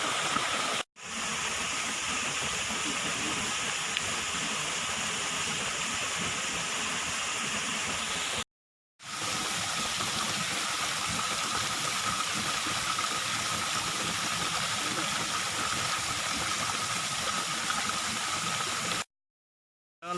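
Curup Kuripan waterfall in Pengandonan pouring steadily, a dense, loud rushing hiss that holds constant with two brief cuts to silence, no voices heard.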